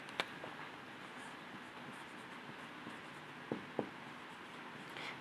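Pen scratching out a handwritten accounting entry for a partners' salary in an HSC profit and loss appropriation account, soft and close, with a few sharp taps and no talking.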